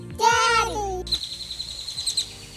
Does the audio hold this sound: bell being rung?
no